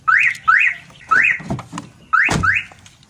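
A Suzuki Ertiga's newly installed car alarm sounds close and loud, repeating a rising electronic whoop four times with short gaps between bursts and no talking.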